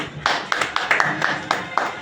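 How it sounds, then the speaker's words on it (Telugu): A few people at a birthday party clap together in a steady, even rhythm, about four claps a second. The claps are close and fairly loud over faint room background. "మీరు క్లాప్స్ కొట్టండి."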